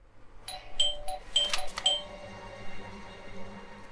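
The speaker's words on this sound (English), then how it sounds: "I thought I should use the doorbell so I wouldn't startle you." A doorbell in the game Blues and Bullets rings out in a quick series of bright chiming tones that fade into a quiet room hum.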